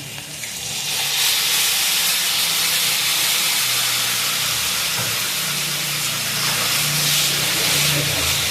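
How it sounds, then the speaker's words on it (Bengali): Water added to a pan of frying ridge gourd kofta curry makes a steady loud hiss and sizzle of steam that holds for several seconds with no talk. "পরিমাণ মতন একটু জল দিয়ে দিলাম।"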